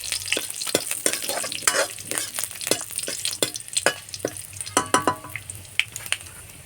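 Dried chili and five-spice seeds sizzle and crackle steadily in hot oil for a lentil and taro-leaf dish, with sharp pops and repeated scrapes of a spoon stirring the pan, close and fairly loud, no talking.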